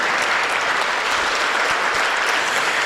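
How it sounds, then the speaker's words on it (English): Dense, steady applause fills a room at a community breakfast on safe communities, many hands clapping loudly and continuously with no voices standing out. "let's give them all a big round of applause."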